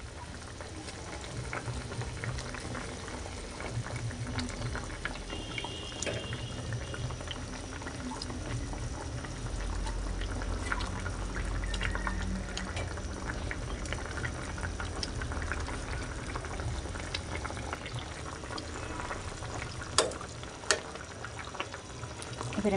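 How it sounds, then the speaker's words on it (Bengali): A pot of liquid for hilsa fish curry comes to a rolling boil, with dense, continuous close bubbling and churning that holds steady throughout, plus a couple of faint clicks near the end. "বলক চলে আসছে"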